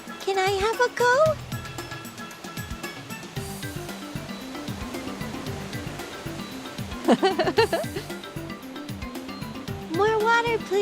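Water from a toy waterfall in a kids' pool pours with a continuous splashing hiss, close by, while children talk and exclaim over it.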